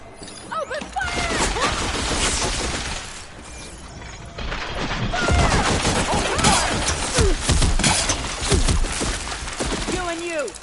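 A volley of gunfire in the video game Horizon Forbidden West, with rapid shots and booms filling the whole stretch amid loud battle noise and shouting voices.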